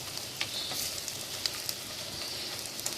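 Masala frying in oil for Lahori chikhar choley, a steady soft sizzle with faint crackles and occasional spatter pops, quiet and continuous with no talk.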